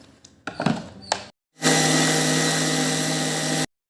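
A kitchen blender whirs loudly and steadily for about two seconds, mixing ice apple (nungu) with ice water for sarbath, preceded by a few clinks and handling sounds.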